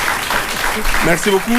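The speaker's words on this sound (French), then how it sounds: "On peut l'applaudir, s'il vous plaît." Audience applause at a public gathering broadcast by Niger's national radio and television, a steady wash of clapping lasting the whole moment while a voice speaks briefly over it near the end.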